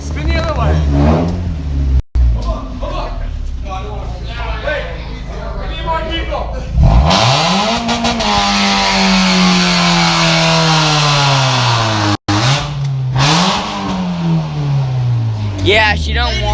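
A stock Mazda Miata engine revs hard while the car spins, climbing and falling in pitch through long, loud sweeps. Brief cutouts break it up, and people shout and talk over it.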